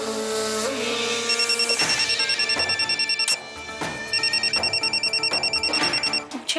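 An incoming call sets a phone ringing in repeated electronic chirping bursts, loud and close, pausing briefly between rings over a soft musical background.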